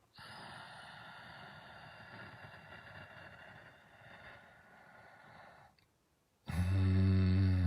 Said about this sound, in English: just by breathing in a couple times slowly through the nose